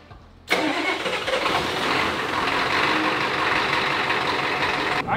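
A turbocharged 1983 Ford F350 Bullnose dually truck starts with an abrupt loud catch, then runs at a strong, steady rumble, heard up close.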